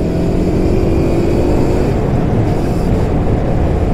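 A Voge 350AC motorcycle engine drones loudly and continuously on a winding B-road, its revving tone mixed with heavy rushing wind buffeting the microphone.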